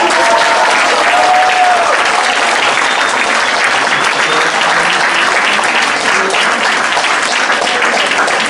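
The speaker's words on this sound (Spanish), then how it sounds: "Un aplauso, por favor, para todos ellos nuevamente." Loud, continuous applause from a ceremony crowd honoring teachers on Teachers' Day, dense clapping held at an even level throughout, with a faint murmur of voices mixed in.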